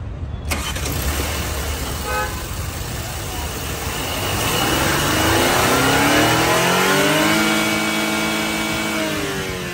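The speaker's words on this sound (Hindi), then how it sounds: "चलिए इसे बंद करते हैं और आपको सुनाते हैं इसके इंजन की आवाज़" A 2023 Porsche Cayenne's twin-turbo petrol engine cranks, starts and idles, then revs up with a rising growl before settling into a steady, loud hum.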